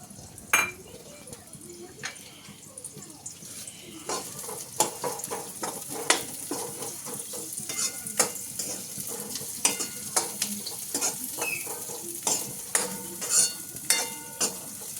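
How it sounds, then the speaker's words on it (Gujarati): Onions frying in oil in a pan for pasta, with steady sizzling and frequent sharp clinks of a utensil stirring against the pot; a voice speaks briefly in the background. "તેલ નાખીને હવે આપણે એમાં કાંદા નાખવાના, કાંદા નાખી દીધા।"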